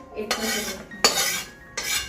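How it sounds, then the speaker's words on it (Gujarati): A metal spoon scrapes and clinks against a pan, stirring flour roasting in ghee, in three separate bursts, close and fairly loud, with no voices. "એ પાણી આપણે આ રીતે ઘીમાં શેકવું પડે"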